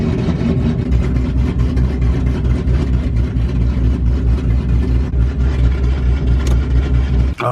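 A modified car nicknamed the Freedom Rocket idles steadily inside a shop, a loud, deep, continuous engine rumble with a low throb that holds even for the whole stretch, no voices over it.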